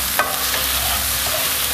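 Kaffir lime leaves frying in oil with turmeric in a pan while being stirred, a steady close sizzle with a few scraping stir strokes, no talking.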